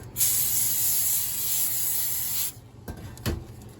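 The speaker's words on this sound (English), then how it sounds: "I'm going to spray it with some cooking spray" A steady, hissing blast of cooking spray into a foil-lined pan lasts a couple of seconds, followed by a few soft knocks and scrapes nearby.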